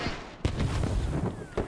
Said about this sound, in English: Explosions coming out, smoke mortars to cover their approach.